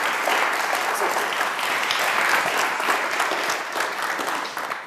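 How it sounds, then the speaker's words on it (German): A large audience claps loudly and steadily throughout at a German conference talk, welcoming the presenter onstage in one dense, continuous burst of applause. "Ich würde sagen, wir starten einfach einen großen Applaus"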